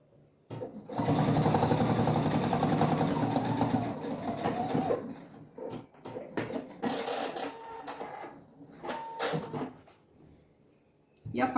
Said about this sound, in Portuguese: Agora eu passo uma costura em cima, somente aqui na parte de cima pra rebater